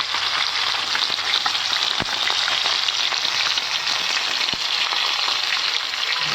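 Continuous bright sizzle of fish frying in oil at close range, even and unbroken, with a couple of faint knocks from the pan and no voices.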